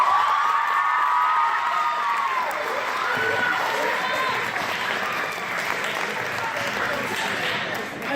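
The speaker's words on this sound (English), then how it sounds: "thanks for giving him a round of applause" A crowd at a fundraiser breaks into loud, sustained applause with scattered cheers and whoops, a thick wash of clapping that holds steady throughout.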